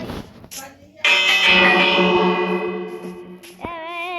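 An echoing, bell-like tone rings out in Minecraft and slowly decays, with short voice-like sounds before it and a warbling tone after.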